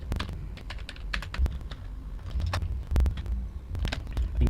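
A password is typed on a computer keyboard, clear close clicks of separate keystrokes in uneven bursts under a low background hum, with no talking.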